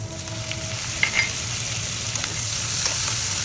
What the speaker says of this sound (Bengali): ডিমটা হালকা করে একটু ভেজে নিচ্ছি